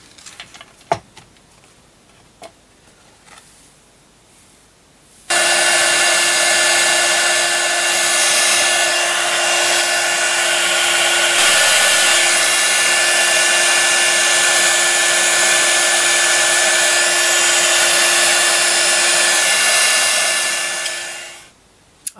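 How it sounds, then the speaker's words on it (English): A heat gun blowing hard on PVA glue over a napkin craft, switched on with a sudden steady roar and whine that stays loud and constant for about sixteen seconds before cutting off, after a few faint clicks. "then I'm going to blast that with a heat gun"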